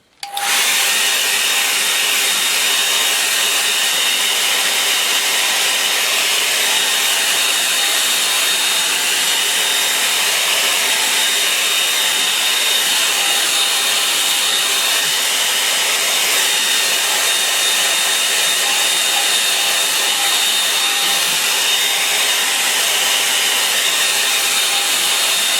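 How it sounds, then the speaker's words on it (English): A hairdryer runs continuously at close range to dry paint, a loud steady whirring blow that starts abruptly and holds without pause. "I want that to dry off a bit now, so I'm going to use a hairdryer."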